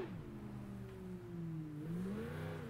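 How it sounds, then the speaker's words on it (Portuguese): Simulated car engine in the BeamNG.drive driving game revving lightly and rising in pitch as it accelerates, a steady mid-level drone with no voices. "Uma aceleradinha de leve, o bicho já saiu de traseiro, ó."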